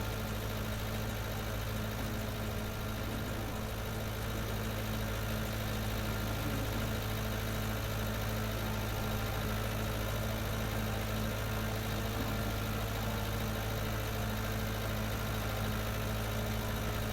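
Tractor engine idling with a mower attached in Farming Simulator, a continuous steady low drone with an even hum that runs unbroken throughout, with no voices.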